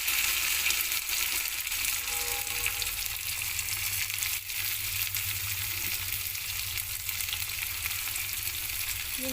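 Curry leaves and onion fry in hot oil for masala idli, a steady dense sizzle running evenly throughout with a low hum beneath, fairly faint and without voices.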